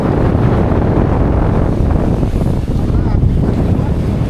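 Sea waves splashing and slapping against a small fishing boat off Surigao, with wind buffeting the microphone in a constant rough roar throughout.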